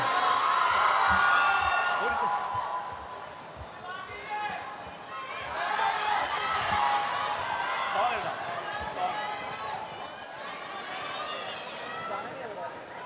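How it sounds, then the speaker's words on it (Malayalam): A college audience applauds and cheers for actor Sreenath Bhasi, with a noisy crowd, whoops and chatter rising and falling while people talk loudly over it. "അപ്പൊ നമുക്ക് ബാസി ഗായ്സ് ഒരു ഗംഭീര കൈയടി"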